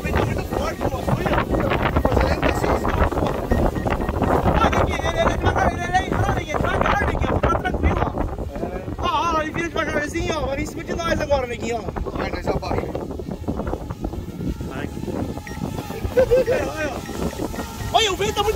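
Steady, loud buzzing roar from a 70mm ducted fan motor warming up outdoors in strong wind, heavy gusty wind rumble blending with the motor throughout, and someone talking over it.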